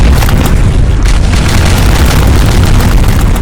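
An explosion in a Unity video game lands as a loud, sustained booming blast that fills the whole clip with dense rumbling roar, with no voices.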